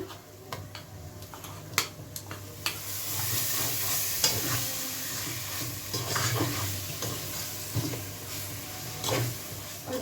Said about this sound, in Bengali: দেখো এবার আদা রসুনের পেস্টগুলো দিয়ে দিচ্ছি